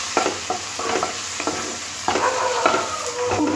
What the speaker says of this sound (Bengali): এবার সমস্ত কিছু খুব ভালো করে কষে দিতে হবে।